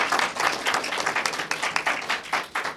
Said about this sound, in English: Can we give them another big round of applause for this fabulous job?